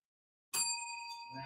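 A handheld backup bell rings once after silence, a bright metallic ding with a sustained shimmering ring that slowly fades, close and clear.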